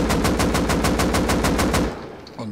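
An LR300 assault rifle fires unsuppressed in the Rust video game: a loud, rapid burst of about a dozen evenly spaced shots for roughly two seconds, then a brief fading tail.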